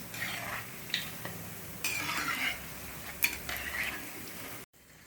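Boondi is stirred and fried in a pan for a mixed savoury snack. Quiet scraping strokes and a soft sizzle repeat at irregular intervals, then the sound cuts off abruptly near the end, with no voices.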